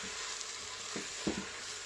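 Beef sizzling quietly in a pan for a wartime curried beef recipe, a soft continuous fry broken by a couple of brief stirring scrapes.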